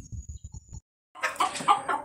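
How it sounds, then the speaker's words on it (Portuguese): Silver Polish chickens, two roosters and six hens in a pen, give a run of short low clucks, fall silent for a moment, then break into louder, busier squawking and calls. "Aqui temos a baia dos poloneses prata. Dois galos e seis galinhas."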